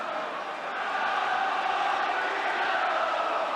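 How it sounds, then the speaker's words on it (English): Football stadium crowd at Norwich City v Southampton, a steady, broad roar of many voices urging the home side before half-time, sustained and fairly distant with no distinct peaks. "Crowd willing the home side to go in with a half-time lead."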